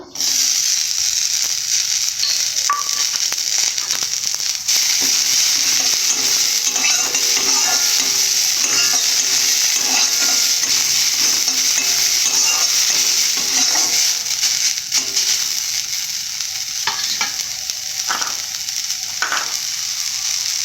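Onions frying in a pan after lentil dumplings, a loud continuous sizzle close up with stirring and scraping clatter throughout, no voices.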